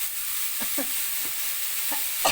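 Quiet sizzling of pork stir-frying in a pan, with a few light scraping stir strokes at irregular intervals.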